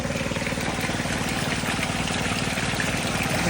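Fresh water flowing steadily near a rambutan grove, a dense continuous rushing wash under a low engine-like drone, with no pauses.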